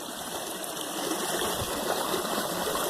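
Creek water flows steadily over bedrock and gravel in an Ohio stream, a constant close rushing wash with no breaks and no voices.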